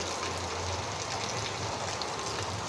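Rain falls in a faint, continuous hiss, an even wash of pattering drops with no other distinct sounds standing out.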